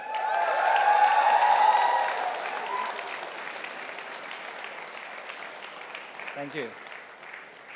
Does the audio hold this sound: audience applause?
yes